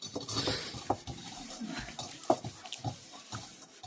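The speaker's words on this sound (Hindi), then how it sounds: "बर्तन भी अभी हमें धोने पड़ेंगे" Dishes, pots and a kadai get washed by hand at a home kitchen sink, with scattered clinks and knocks of metal utensils over running water and faint background voices.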